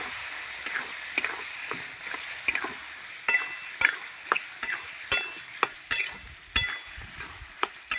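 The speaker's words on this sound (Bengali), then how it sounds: "এবার আমি কষিয়ে নেব।" Steady sizzle of spices and ingredients being stir-fried in a pan with salt and a splash of water, with frequent sharp clicks and scrapes of a utensil against the pan at an irregular rhythm.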